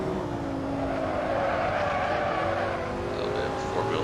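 A Lamborghini Sesto Elemento engine in Assetto Corsa drones loudly and continuously at high revs through a corner, its tone shifting slightly as a gear is taken, close and steady, with no talk over it.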